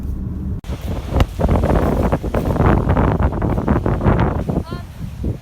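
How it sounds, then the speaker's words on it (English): Heavy wind on a cold beach buffets the microphone in loud, gusty rumbles throughout, with faint surf behind it. "the weather is absolutely disgusting and it's going to be so windy, the audio"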